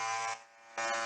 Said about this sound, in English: Oh no! The buzzer.